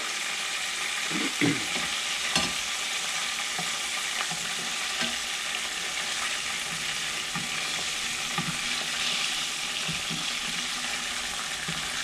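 Steady sizzling and crackling of meat nuggets frying in hot oil, with occasional soft clinks and stirring noises, continuous throughout.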